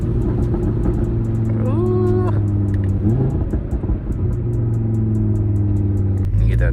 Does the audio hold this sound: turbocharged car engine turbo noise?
yes